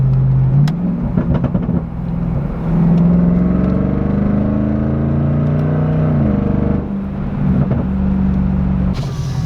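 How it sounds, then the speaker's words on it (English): A supercharged V8 with an H-pipe exhaust rumbles loud and close as it downshifts, its engine note rising and falling in a steady drone with a few sharp pops of backfire toward the start and end. "if I downshift, you can hear there's some backfire"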